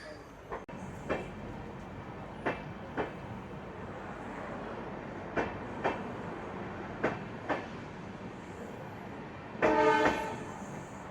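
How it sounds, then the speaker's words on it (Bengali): The Sealdah-Ballia Express, a new LHB rake, pulls out of platform 2 at Andal Junction with steady rail rumble and regular wheel clacks over joints, then a short horn-like blare near the end. "এই আমাদের শিয়ালদা বালিয়া এক্সপ্রেস বেরিয়ে যাচ্ছে 2 নম্বর প্ল্যাটফর্ম ছেড়ে অন্ডাল জাংশন"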